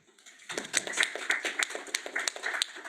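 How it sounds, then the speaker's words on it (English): Audience applause at a panel event on climate mobility: a burst of claps begins after a brief quiet start and continues steadily, moderately loud with uneven rhythm, suggesting a smallish group clapping. "So I'd like us to also give a round of applause to Claire."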